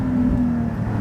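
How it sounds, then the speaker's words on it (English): Porsche 718 Spyder engine and exhaust holding a steady, smooth howl with a hint of induction, a continuous loud drone at close range with no one speaking. "Very sort of traditional Porsche howl, I would call it."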